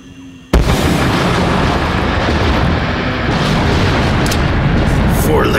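A sudden loud explosion in the shooter game Call of Duty: World at War, bursting in after a quiet moment and rolling into a sustained roaring rumble of blasts that fills the rest of the scene.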